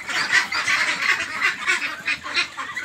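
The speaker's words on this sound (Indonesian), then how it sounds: "Ini bebek yang di sini dalam video ini sudah umur 35 hari ya teman-teman." A flock of 35-day-old meat ducks on a farm quacks and honks continuously, many birds calling over one another in a dense, steady chorus with no voices.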